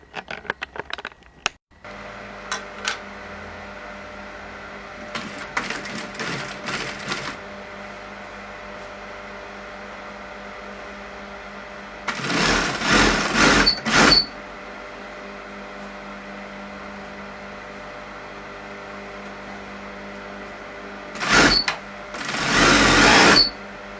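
A sewing machine stitches ribbon onto a bespoke curtain in three separate bursts of fast, even whirring, with quiet pauses between runs.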